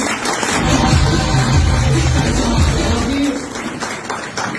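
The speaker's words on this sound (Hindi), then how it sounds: "आप लोग अपने लिए एक बार जोरदार तालियां बजा दीजिए।" A conference hall audience at a direct selling event in Digha bursts into loud, sustained applause and cheering, the dense clapping filling the room before tapering slightly near the end.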